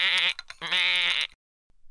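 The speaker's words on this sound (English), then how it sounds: "a bleeper hidden in your tie, which bleats like a sheep." Two loud bleats like a sheep's from an electronic bleeper, a short one then a longer wavering one, close and clear, followed by near silence.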